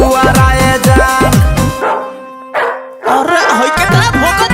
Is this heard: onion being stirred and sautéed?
no